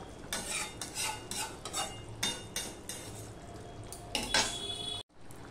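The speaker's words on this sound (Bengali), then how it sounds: "এইভাবে আমি একবার নেড়ে দিলাম" Bata fish curry in mustard-poppy paste with raw mustard oil being stirred in a pan, a run of close metal utensil scrapes and knocks over a low bubbling simmer, ending abruptly, no talking.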